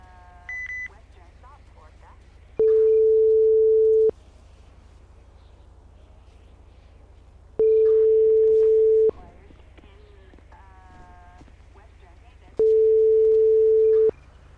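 In a GTA RP game, a phone ringback tone repeats as three long, steady electronic tones with pauses between them, clear and loud, with a faint voice and short blips in the gaps.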